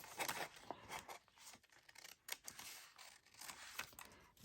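Scissors snip through old envelope paper in a quiet room, giving several soft, close crisp cuts and paper rustles with no voices.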